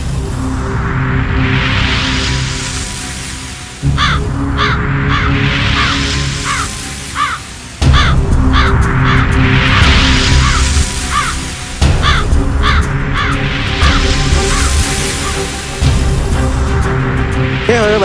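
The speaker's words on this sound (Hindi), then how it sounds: "ये कौवा कहां से है?" Crows caw loudly and close in repeated bursts of harsh calls over a dense, steady background, cycling through several rounds with abrupt cuts between them in a TV drama scene.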